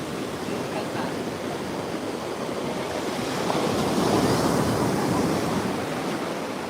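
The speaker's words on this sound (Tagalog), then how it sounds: "Dito kami ngayon sa beach." Ocean surf rolls steadily onto a beach at San Juan, a continuous broad wash of breaking waves, loud and close, that swells slightly toward the end, with no distinct talk.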